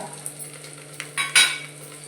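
Masala with onion and garlic stirred in a pan for a Maharashtrian rajma masala rice, giving a faint steady sizzle with a few scraping, clinking strokes of a spoon against the pan, the last two louder.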